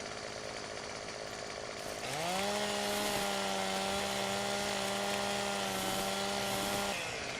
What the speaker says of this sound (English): I need to trim these up, though. Kind of delimb them.